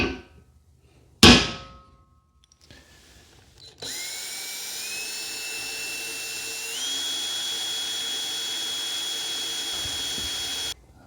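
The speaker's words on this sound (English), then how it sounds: "I like to punch a dent so my smallest drill bit can catch into it without moving around" A single sharp, loud strike of a punch denting metal rings out, followed after a pause by a drill spinning up to a steady, sustained whine.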